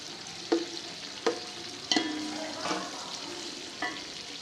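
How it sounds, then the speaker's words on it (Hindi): Finely chopped onions fry in four spoons of oil in a pot for aloo tahari. A steady soft sizzle runs throughout, broken by several sharp spoon knocks against the pot as the onions are stirred, with no speech. "प्याज को सुनहरा होने तक पका लेंगे।"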